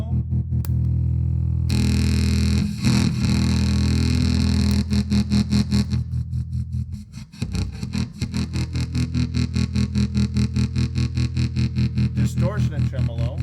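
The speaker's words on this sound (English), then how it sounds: "That's with the overdrive and the tremolo." Electric guitar played through a 1970s Peavey F-800G Super Festival Series amp with overdrive and tremolo engaged, giving loud sustained distorted chords that pulse rapidly and steadily, alone without talk.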